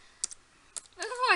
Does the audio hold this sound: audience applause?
no